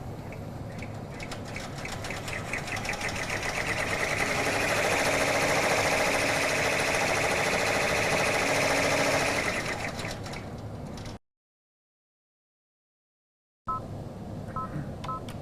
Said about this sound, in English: So the machine then stitches out your outline for you.